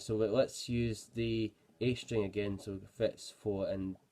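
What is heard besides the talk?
No distinct noise like a dog, phone or traffic.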